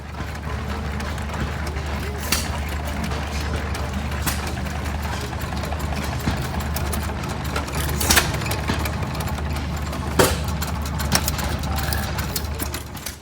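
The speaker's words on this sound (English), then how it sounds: "There's another hit or miss engine. This one's powering a cutoff saw." An old hit or miss engine at a steam and gas show drives a cutoff saw, a steady low chugging throb with occasional sharper bursts, while people talk nearby.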